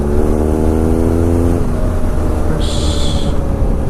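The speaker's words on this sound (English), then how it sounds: "we're sitting at 50 miles an hour now, and the wind blast is not too bad" Steady engine drone and roaring wind from a BMW R nineT Scrambler on knobbly tyres cruising at about 50 mph, with the engine pitch sliding briefly as the rider accelerates, loud and continuous throughout.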